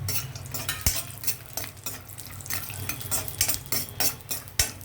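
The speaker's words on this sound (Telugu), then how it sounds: "ముందుగా మనము ఇవి వేయించి పక్కగా తీసేద్దామండి పల్లీలు జీడిపప్పు" Peanuts and cashews fry in ghee in a pan, with a steady sizzle broken by frequent stirring and sharp clinks of a metal spoon against the vessel, close up and without any talk.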